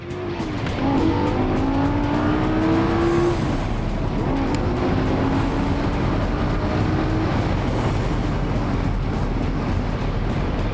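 A car driving fast at around 200 km/h on private property, a loud sustained engine roar with rising and falling tones as it accelerates, joined by steady rushing wind and road noise throughout.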